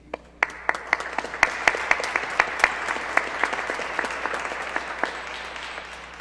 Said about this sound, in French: je les applaudis aussi